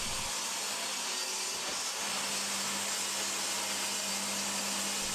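A table saw runs steadily, ripping birch plywood panels to width in a workshop, with a continuous loud, airy whine and no pauses.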